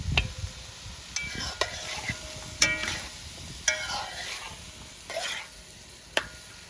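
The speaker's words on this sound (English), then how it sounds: "It's cooking on very low heat here." Vegetarian Guyanese cook-up rice simmering on low heat, a steady soft background hiss broken by occasional sharp scrapes and clinks of a spoon against the pot, close by with no talking.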